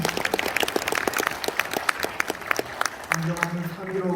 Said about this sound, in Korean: 여러분의 힘찬 박수로 모시겠습니다.